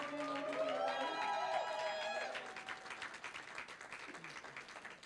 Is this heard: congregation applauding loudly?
yes